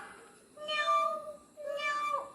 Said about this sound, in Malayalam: നമ്മുടെ പൂച്ച എങ്ങനെ കരയാ?